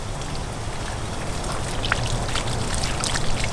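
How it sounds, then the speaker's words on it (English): Water trickles and patters steadily onto soil around a newly planted mango tree, a continuous close splashing pour with no talk. "the only way it's gonna get water is by you sitting here and giving it water"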